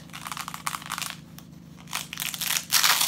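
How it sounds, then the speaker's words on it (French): A small USB solar panel is unwrapped from its packaging, with loud, close crinkling and crunching of plastic wrap in irregular bursts that build toward the end. "nous allons tout de suite déballer le panneau solaire"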